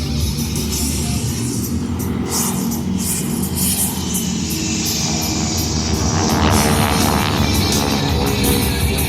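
Thunderbirds air show jets flying in two Vic formations pass with a loud, continuous roaring rumble that swells slightly toward the end, heard from the ground with no talk.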